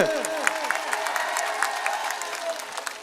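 A crowd at a political rally in Banaskantha, Gujarat applauding loudly and continuously, with a raised voice and sweeping tones cutting through the clapping.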